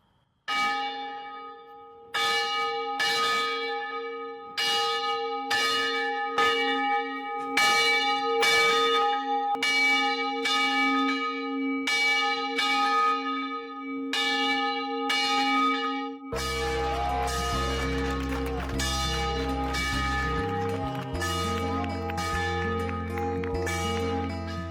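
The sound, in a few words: church bell ringing in 125-year-old bell tower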